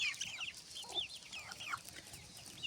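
Chicks and hens cluck and peep softly nearby in a quiet yard, short scattered calls overlapping with no talking.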